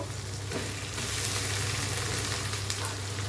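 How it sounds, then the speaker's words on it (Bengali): Tomatoes and onions fry in a pan for potol dorma, giving a loud, continuous sizzle with faint stirring, without voices. "কোচানো পেঁয়াজ এবার দিচ্ছি টমেটো"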